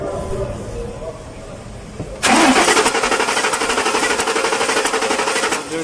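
A 2006 Ford Expedition with a crank-but-no-start fault cranks loudly and rhythmically in a rapid, steady chug after a quieter stretch of background noise, without catching.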